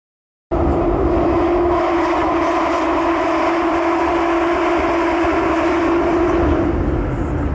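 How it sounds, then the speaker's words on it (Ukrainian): Loud, continuous roar of a London Underground Jubilee line train in motion, a steady droning rumble with a high whine, starting abruptly and filling the whole stretch. "На деяких гілках метро рівень шуму настільки високий, що спілкуватися під час руху стає майже неможливим."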